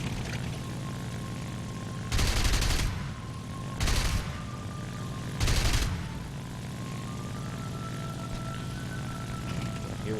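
Aircraft machine gun fire in War Thunder during a P-38G dogfight, three loud bursts of rapid gunfire about two seconds apart over a steady engine drone.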